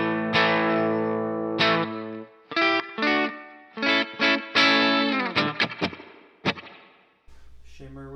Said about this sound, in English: Let's hit the mod and see how that sounds. This is the mod on the spring.